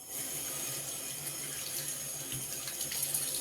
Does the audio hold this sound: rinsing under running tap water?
yes